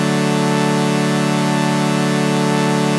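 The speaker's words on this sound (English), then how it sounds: "let's create an organ sound from scratch" Synthesized organ chords built from scratch for a melodic house track sustain loud and dense without a break, a bright, buzzy held tone with no talking.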